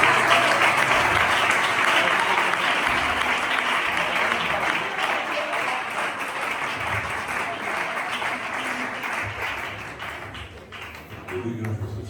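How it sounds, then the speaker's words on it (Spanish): Congregation in an evangelical church applauding, a loud, dense wash of clapping that runs steadily and slowly tapers, with a voice briefly heard beneath it. "Puedes dar un aplauso a Jesús."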